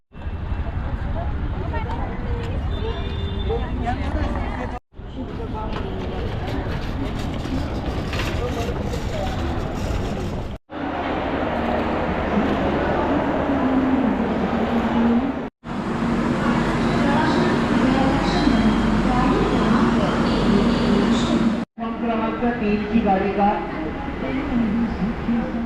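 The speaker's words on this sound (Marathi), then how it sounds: "आता आम्ही ट्रेनमध्ये आलेले आहोत" Rumbling interior of a moving Mumbai suburban train near Kurla, a steady loud rattle and roar that runs throughout with brief cuts between segments, while people talk over it.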